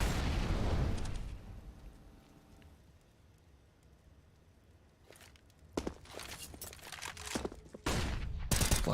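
Gunfire and a wallbang in a Counter-Strike match, with a heavy burst of shots at the start, a quieter stretch of footsteps and movement, then more rapid shots and impacts near the end; no talking.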